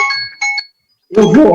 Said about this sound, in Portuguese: Esse é meu alarme.